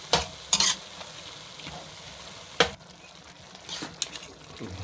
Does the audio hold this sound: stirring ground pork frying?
yes